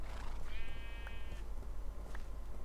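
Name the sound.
sheep bleating in the video game Minecraft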